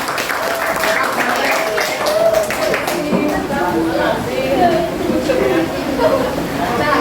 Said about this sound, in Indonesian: Berikan tepuk tangan kepada Gek Cantik dan kelompoknya ya.